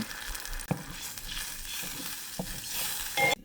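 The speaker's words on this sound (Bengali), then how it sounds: "পেঁয়াজটা এরকম ভাজা হইলে দেখেন বোঝা যাচ্ছে যে হালকা এরকম ভাজা হয়েছে" Onions frying in a pan as tamarind with its seeds is added, a soft continuous sizzle broken by a few stirring scrapes and knocks, fairly quiet and close.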